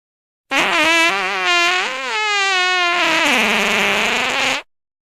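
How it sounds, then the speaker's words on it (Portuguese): A comic fart sound effect meant to sound scared wavers and warbles in pitch for about four seconds, loud and close, with silence before and after. "Peido assustado."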